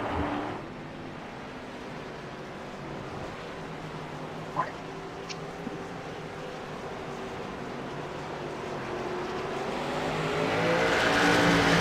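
Race car engines drone steadily through a sim race in the Xfinity Series, a continuous moderate roar that swells toward the end, with commentators talking over it.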